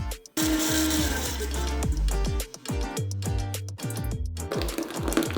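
Kitchen blender chopping tomatillos, green chilis, salt, fresh coriander and a garlic clove for a taco salsa, whirring in short bursts with abrupt stops and restarts.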